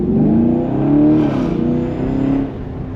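A Camaro LT1 V8 with an underdrive pulley rolling into the throttle on a test drive, the engine note rising smoothly in pitch then easing off, close and loud from inside the car.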